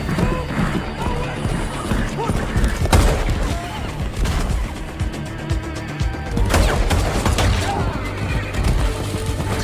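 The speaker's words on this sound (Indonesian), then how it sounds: "John sedang mengejar 3 pria yang bekerja untuk The Elder dengan menunggangi seekor kuda." Horse galloping during a chase through a Moroccan setting in a John Wick action film, with hoof clatter mixed into a dense, loud soundtrack of crashes and gunfire-like bursts, with continuous noise throughout.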